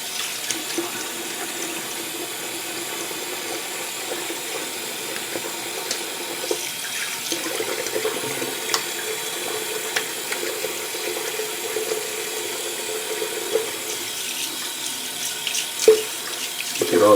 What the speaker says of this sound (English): let's throw a quick rinse on here